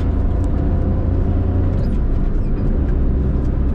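A Maruti Alto engine pulling in third gear on the road, a loud, steady close-up drone with no voices.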